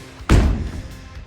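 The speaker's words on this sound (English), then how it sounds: "So now we're gonna start with ball slams," A single heavy ball slammed onto the floor during a fitness workout, one loud impact with a short booming decay, alone with no talk.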